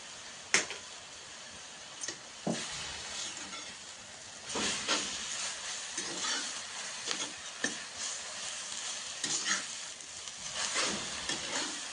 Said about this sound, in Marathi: मीठ घातल्यावर एकदा छान ते हलवून घ्यायचं